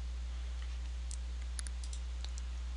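Computer mouse clicks while working in MS3D 3D modelling software: a handful of faint, crisp clicks, some in quick pairs, over a steady low electrical hum in a quiet room.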